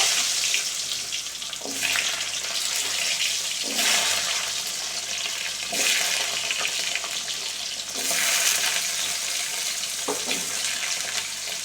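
Steady loud hissing and crackling of cut potatoes frying in a pan, broad and continuous with a few surging bursts, no voices.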